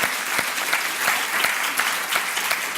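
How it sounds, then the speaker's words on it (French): Attendees at an UNAFAM conference closing session clap for the organisers, a steady round of applause with individual claps standing out in a regular, lively rhythm. "Je vous demande de les applaudir."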